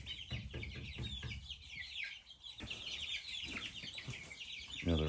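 Chickens cluck and chatter continuously up close around a feeder while pecking at boxelder beetles, overlapping calls in a busy, lively flock with no talking.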